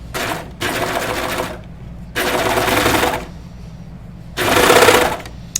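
Close and loud, a sewing machine sews the sleeves into a knit t-shirt in three rapid, rattling runs, each about a second long, broken by short pauses.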